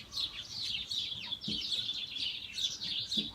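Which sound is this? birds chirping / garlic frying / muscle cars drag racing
birds chirping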